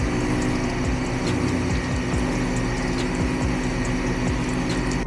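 Philips 3200 espresso machine being switched on after a rebuild with a replaced grinder chute, its pump buzzing loudly and steadily with a rapid mechanical rattle and hum throughout, close up and with no talk.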